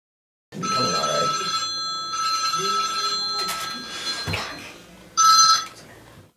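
An office duty phone rings in repeated electronic bursts with short gaps between them, close and clear, and some voices are heard under the rings.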